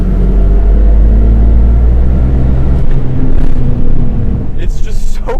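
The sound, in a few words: 1988 BMW E24 635CSi accelerating in third gear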